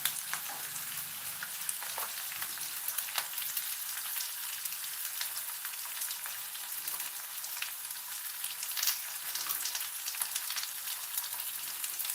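Leftover vada batter mixed with rice fries in hot oil with a soft, steady crackling sizzle, fairly quiet and constant, with small popping bursts scattered through and no talk.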